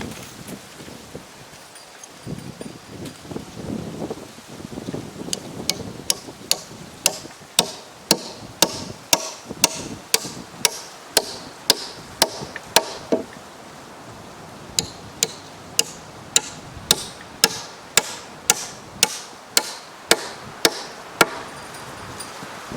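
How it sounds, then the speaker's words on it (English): Hammer strikes driving nails into cedar log timbers on a homemade bridge cut from land timber, a long run of sharp, evenly paced blows, some in quick bursts, loud and close with a short pause partway through. "I will just continue now nailing from this side of the timbers all the way down the bridge"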